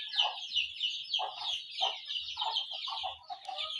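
Pet chickens cluck and chatter continuously at close range, a busy overlapping flock sound of short clucks and squawky calls with faint low thumps underneath.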